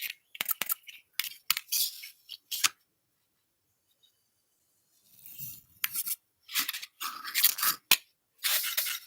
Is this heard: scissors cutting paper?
yes